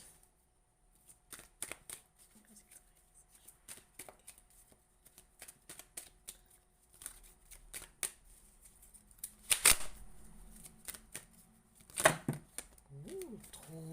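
Tarot cards being shuffled close up, a run of crisp riffles and soft flicks that grow busier toward the end, with no talking over them.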